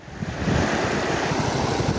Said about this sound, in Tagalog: umiingay ang tubig at tumataas dito